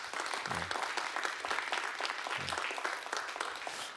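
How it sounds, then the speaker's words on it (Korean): A church congregation applauds in encouragement during a Korean Baptist service, a full, continuous wash of clapping from many hands that holds steady for several seconds. "힘찬 격려의 박수 한번 부탁드립니다"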